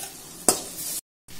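Tomatoes tossed into a hot frying pan of garlic and vegetables for chayote sambar, a brief scrape of stirring followed by steady close sizzling that cuts out for a moment and then resumes.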